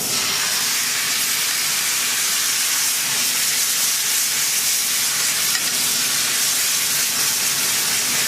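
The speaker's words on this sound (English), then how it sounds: "I want to get this demi-glace in the pan now" Demi-glace for a coq au vin hitting a hot pan with residual juices, a loud, steady broadband sizzle and hiss of frying that holds unbroken throughout, with no talking.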